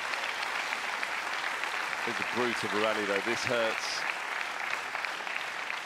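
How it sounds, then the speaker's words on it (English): Spectators applauding and cheering after a long, punishing squash rally in a men's professional match, a steady broad wash of crowd noise throughout while a commentator talks over the middle. "the crowd absolutely loving that"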